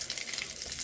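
Cumin seeds hit hot oil, producing a brief, dense crackling sizzle that stays fairly even and loud throughout, with no voices.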